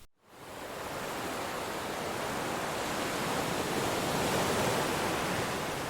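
A steady, broad wash of ocean surf rolls onto a beach, loud and close, rising from silence at the start into continuous rushing noise with no voices.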